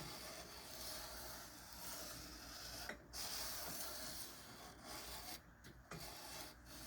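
Steady rasping scrape of a knife blade worked across an oiled Ruixin Pro RX-009 sharpening stone, a continuous close-up grinding texture broken by a few brief sharper strokes, with no talk.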